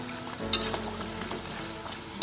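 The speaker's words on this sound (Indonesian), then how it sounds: "ini kita goreng sambil kita aduk-aduk terus sampai keripiknya itu benar-benar garing dan kering" Snack chips fry in hot oil over low heat while being stirred continuously, a steady close sizzle broken by a couple of light scraping clinks from the stirring utensil.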